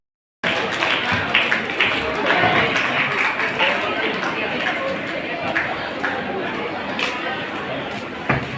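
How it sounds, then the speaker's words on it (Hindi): Loud, sustained applause from an audience at a charity foundation's award ceremony, dense clapping filling the hall with crowd chatter mixed in, steady throughout. "एक बार जोरदार तालियां बजा दें"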